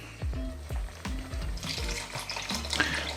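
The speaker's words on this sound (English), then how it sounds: "add some more stock" Stock poured into a pan of chorizo and spinach risotto rice: soft liquid splashing and gentle bubbling sizzle, quiet and close, with no talk.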